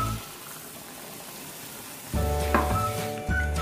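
Water poured from a rinsed mixer jar hits a hot pan of chicken chettinad masala: a low quiet hiss, then a sudden burst of sizzling and bubbling partway through that keeps going, with no talk.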